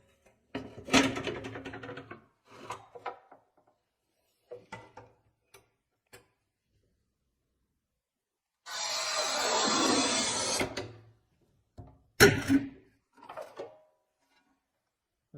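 A Montolit Masterpiuma P5 manual tile cutter works on hard porcelain tile. A few light mechanical clicks come first, then a close two-second gritty scoring rasp, then a sharp snap as the tile breaks, followed by small handling knocks.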